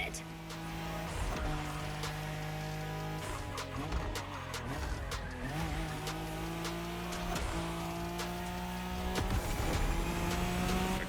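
Nissan Skyline GT-R, nicknamed Godzilla, racing in The Crew Motorfest game: a steady loud engine drone with shifting revs and tire squeal, under a continuous game music bed and a voice talking over it.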